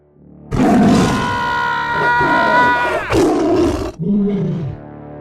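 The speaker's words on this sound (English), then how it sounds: "The tiger roared in pain, but continued its attack" A tiger roars in pain mid-attack, a dramatized sound effect for an audio story: one loud, long, harsh roar that swells and holds, then breaks into a second, shorter snarling burst before fading.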